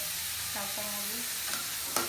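Green chillies frying in a pan of onion and garlic paste while being stirred, a steady soft sizzle with a few brief scraping stirs, close and moderately quiet, with a voice briefly in the background.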